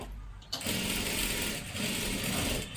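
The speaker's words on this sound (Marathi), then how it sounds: "एकदम कडेकडेला आपल्याला शिलाई मारत मारत घ्यायचं आहे" Sewing machine stitching closely along the edge of a salwar, running in a fast, steady whirring rattle after a short quiet start, loud and near with no talk.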